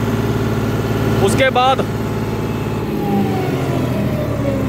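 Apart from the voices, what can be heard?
John Deere 5310 tractor engine revving at full throttle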